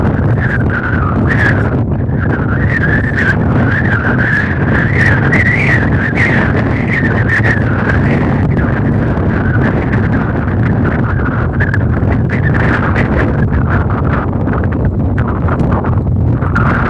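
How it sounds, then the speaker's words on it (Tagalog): Strong wind whistles at Budaiya Beach in Bahrain. A steady, loud roar of gusts buffets the microphone, and a wavering whistle runs through it the whole time. "Narinig nyo naman yung lakas ng hangin na sumisipol."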